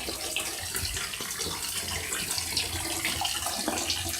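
Water runs steadily from a tap into a sink or tub while a long-haired Chihuahua is bathed, a constant close splashing hiss with no talk.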